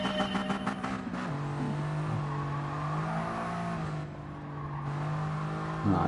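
A slow car's engine in Gran Turismo Sport during a time-trial lap, droning steadily at a constant pitch and dipping briefly as it changes speed, with a short revving burst at the start and again at the end.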